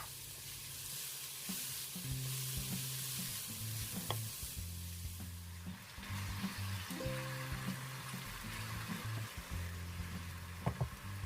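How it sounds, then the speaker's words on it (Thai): Continuous sizzling of shiitake mushrooms stir-frying in vegetable oil in a pan, with occasional clinks of stirring and a faint low hum in the background. "ตั้งกระทะใส่น้ำมันพืชลงไปค่ะ ตามด้วยเห็ดหอมแล้วก็ผัดให้สุกเลยค่ะ"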